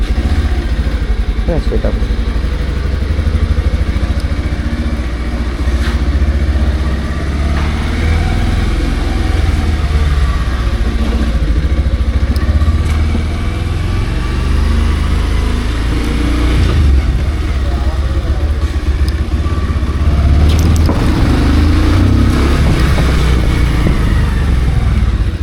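A Bajaj Pulsar 150 BS6 motorcycle, a 2022 model, runs inside a garage with a steady, loud engine drone that rises and falls with light throttle over nearly half a minute, while someone talks over it throughout.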